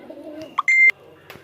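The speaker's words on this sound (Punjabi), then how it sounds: "ਹਾਂਜੀ, ਚਪਟਾ ਕਬੂਤਰ।" A chapta pigeon coos softly and low, followed by a couple of short electronic beeps and one sustained beep tone nearby.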